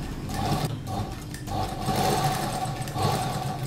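A sewing machine stitches a strip onto a cloth slip, a steady whirring run that pauses briefly twice before resuming at an even, moderate pace close by.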